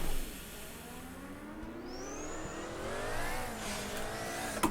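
A race car in Assetto Corsa pulls away in first gear, engine pitch climbing steadily as it revs up, with a faint tire chirp partway through and no talk.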